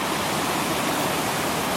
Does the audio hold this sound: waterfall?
yes